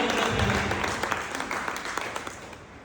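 An audience at a motivational seminar on earning money gives hearty applause for a woman, a thick burst of crowd clapping that starts strong and gradually tapers off.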